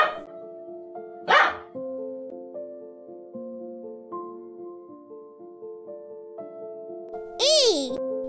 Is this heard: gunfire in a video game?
no